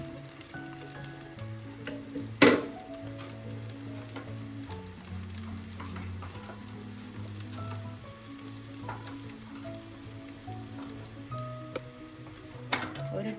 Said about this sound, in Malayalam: ഉള്ളിയൊക്കെ ഒരുവിധം വഴറ്റിട്ടുണ്ട്